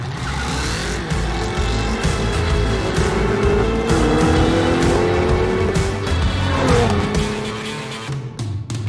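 Cadillac CT4-V and CT5-V Blackwing cars racing each other, with loud sustained engine roar, rising and falling revs and brief tire squeals running throughout, and no talking.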